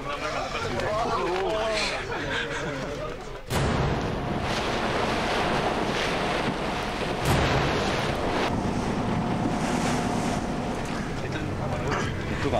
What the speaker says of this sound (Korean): 눈앞으로 파도가 덮쳐오는 험난한 뱃길.